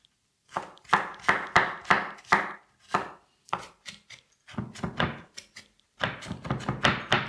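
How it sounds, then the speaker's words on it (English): Garlic being chopped with a knife on a board while making red lentil dahl, a quick run of close, crisp knife strikes in bursts with short pauses, no talking. "Again, you can mince the garlic if you prefer. I'm just chopping it in here because I don't have a mincer"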